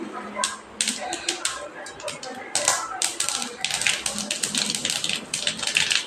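Mustard seeds with asafoetida pop and splutter in hot oil for Tamil-style tomato thokku, a dense run of sharp crackling taps close by, with brief talk.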